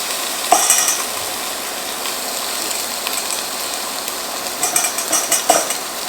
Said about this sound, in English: Gonna start to render the fat